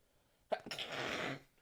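A single sharp sneeze, fairly quiet, with a sudden onset and a breathy, hissing tail.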